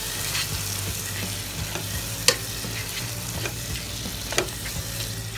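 Tomato paste is stirred into sizzling chicken kabsa, a steady frying hiss with soft, irregular spoon scrapes and a couple of sharper clinks against the pot, close and without talking.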